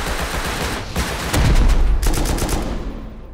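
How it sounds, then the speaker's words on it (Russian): Rapid bursts of automatic gunfire from the survival game Rust during an online raid on a water base, loud and close, with a heavier cluster of shots partway through and no talk. "это сзади чувак стреляет"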